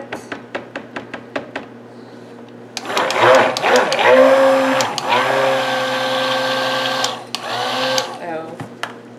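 A few quick clicks, then a stick blender mixing soap whirs loudly in a sustained high whine with brief dips, stopping and starting again near the end.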